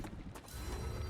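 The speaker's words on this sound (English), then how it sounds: "Changing mags." Weapon magazine swap in the video game StarRupture: a short burst of mechanical clicks and ratcheting rattles, quiet and close, lasting about a second with no voices over it.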